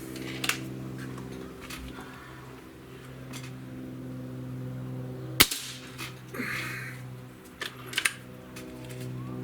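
A Cometa 94 breakbarrel air rifle fires with a single loud, abrupt snap midway, surrounded by several smaller clicks and taps over a steady low hum, with no voices.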